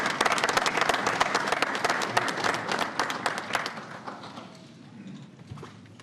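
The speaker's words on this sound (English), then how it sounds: "Let's give them a nice round of applause." A council chamber audience applauds loudly with dense clapping, strong through the first few seconds and then thinning and fading toward the end.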